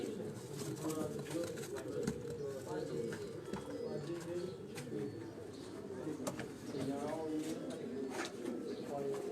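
A lone rooftop breeder pigeon coos in soft, repeated rolling phrases, fairly close, with occasional faint chirps and light background noise around them.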